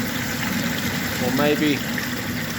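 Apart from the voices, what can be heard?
submersible sump pump pumping water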